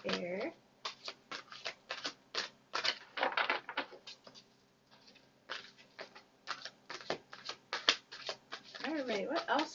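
Tarot cards shuffled and riffled in quick bursts of crisp, papery patter, close by, with someone talking over and between the shuffles.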